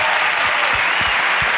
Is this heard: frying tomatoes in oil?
no